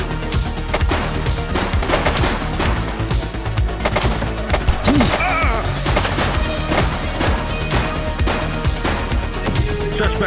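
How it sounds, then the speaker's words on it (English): Gunfire from a suspect shooting during a police chase in The Precinct video game, dense and loud, layered with crashes and busy game sound over the full stretch. "She's shooting!"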